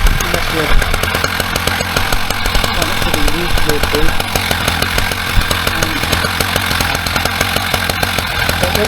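A Husqvarna 380CD chainsaw milling a log into boards, running continuously at loud, full-throttle cutting with a harsh buzzing drone and steady rattling chain texture throughout.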